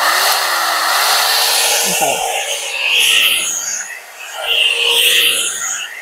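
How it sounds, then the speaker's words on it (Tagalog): A 2-in-1 hair dryer and blower brush runs steadily with a broad airy whir while hair is styled, its noise swelling twice; a voice briefly speaks over it. "Ang maganda dito kasi 2-in-1 na siya, blower, tapos brush."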